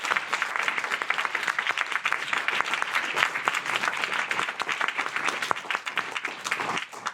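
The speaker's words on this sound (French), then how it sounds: "je pense qu'on peut encore vous applaudir" A seated audience at a round-table event applauds steadily for the speakers, with dense, sustained clapping that holds even and moderately loud throughout.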